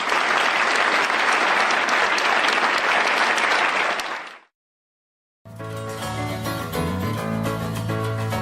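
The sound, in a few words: audience applause at political rally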